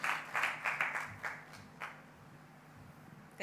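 A conference audience at a digital banking summit claps in a short ragged burst that thins out to scattered claps within two seconds, fairly quiet and distant, followed by near silence.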